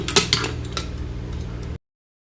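Metal clanks and rattles as the lid is fitted onto a pressure cooker full of duck curry, a few close, sharp knocks followed by a steady scraping clatter that stops abruptly.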